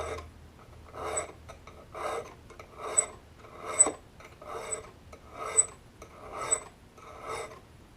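A hand file rasps along the inside cutting edge of an auger bit in steady back-and-forth strokes, about eight rhythmic passes, close and clear with no talking.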